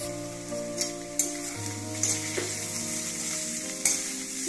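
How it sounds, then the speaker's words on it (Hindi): Poha flakes with boiled potatoes frying in a pan for Indori aloo poha, a steady close sizzle with a few sharp scraping stir strokes and a low background hum, no talking. "अब हम इसमें पोहा डाल करके फ्राई करेंगे।"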